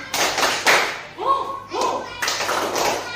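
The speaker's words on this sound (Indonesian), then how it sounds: "Ya, kita tepuk semangat lagi ya. Tepuk semangat." A group at a school training session performing a rhythmic 'tepuk semangat' clapping routine: sharp bursts of hand claps in patterned groups, close and loud, mixed with voices chanting along.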